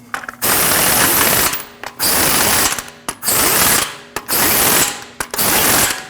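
Impact tool snugging wheel lug nuts on a 2014–2023 Jeep Cherokee, five loud rattling bursts of about a second each, separated by short gaps, close and harsh with no talking.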